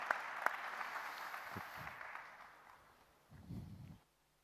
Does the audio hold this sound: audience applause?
yes